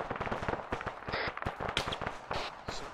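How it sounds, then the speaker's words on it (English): Gunfire in the Arma 3 video game hits nearby houses as a rapid, irregular string of sharp shots and cracks that keeps going throughout. "more southwest, shooting at the houses we're in."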